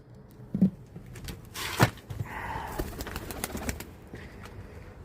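A tumbler pigeon stirs nearby with brief soft coos and a quick flutter of wings, followed by scattered light pattering movements.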